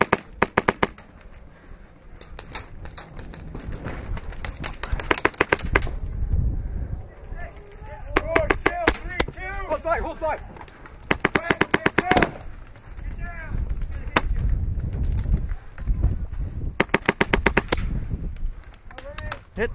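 Airsoft guns fire rapid bursts of snapping shots during an outdoor capture-the-flag game, repeated volleys near and far, with players shouting and talking throughout.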